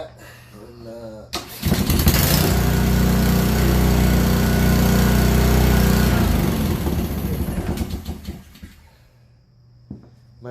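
A Honda 190 pressure washer engine cranks over and fires up, roaring loud and steady for several seconds before winding down, with someone speaking briefly before it starts.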